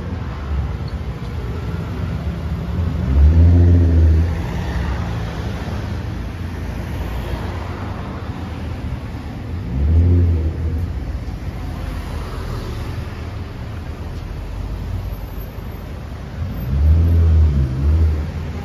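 Ford Mustang and Audi RS4 engines in Monaco street traffic, deep rumbling revs that swell and pass three times over a constant roadway hum, loud and fairly near.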